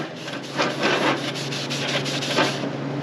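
Oily steel stock is rubbed and wiped down with brake cleaner, giving close, soft scrubbing strokes in a quick rhythmic series of rasping swipes, with no talking.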